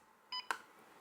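Two quick electronic keypad beeps from a KIS-2200 wired card payment terminal, a short tone followed by a sharper click-beep, faint and close in a quiet room.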